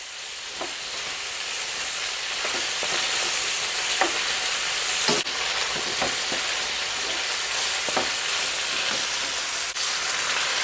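Jamaican curry chicken sizzling in a pot, a steady hiss of frying with scattered scraping ticks as the pieces are turned and stirred, close and continuous, no speech.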